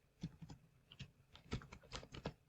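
Clicky bursts of typing on a computer keyboard as an SQL query is entered, irregular quick keystrokes heard close and quiet with no talking.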